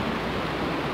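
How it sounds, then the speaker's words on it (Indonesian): Strong river current rushing along a riverbank, a steady, dense broadband roar filling the whole moment, close and constant with no voices. "Ini kita di pinggir sungai."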